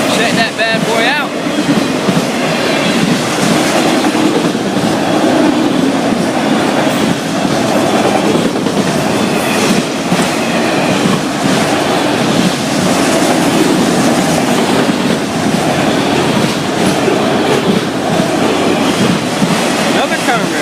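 FEC freight train with Conrail cars rolling past, a loud, steady rumble with rhythmic clickety-clack of wheels over rail joints, close by and continuous for the whole stretch.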